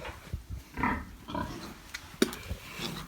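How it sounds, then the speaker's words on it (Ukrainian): A piglet grunts softly in a pen during weighing and vaccination on a pig farm, with several short irregular grunts and rustling close by, and no talk. "Це свинка риженька."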